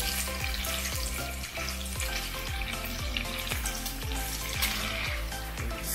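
Hash brown and bacon fry in a pan with steady, close crackling and sizzling, broken by regular bursts of spattering throughout.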